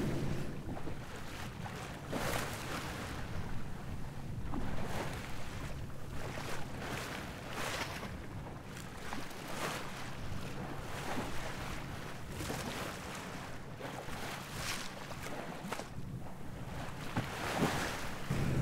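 Steady engine drone of a sailing boat motoring down a strait through a squall, mixed with constant wind buffeting and rushing water, rough and unbroken throughout.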